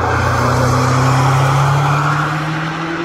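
A new BMW 7 Series car heard close by, a steady engine hum and road noise holding for about three seconds before easing slightly, with no talking.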